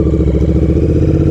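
A Royal Enfield Interceptor 650 motorcycle with an aftermarket exhaust pipe rumbles close by, its deep, throbbing pulses steady and loud, engine running at an even pace with no speech.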